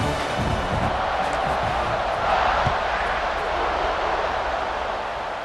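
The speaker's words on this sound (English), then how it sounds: "this crowd is buzzing after that last score" A college football stadium crowd in the College Football 26 video game keeps up a dense, steady roar after a score, loud and continuous throughout with no clear voices on top.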